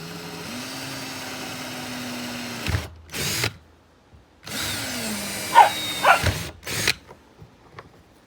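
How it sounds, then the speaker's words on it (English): A power drill drives stainless screws through a trolling motor mount on a jonboat bow, two separate bursts of whirring with a pause between, then a few short clicks and taps. "Just going to put a couple of stainless screws through the mount."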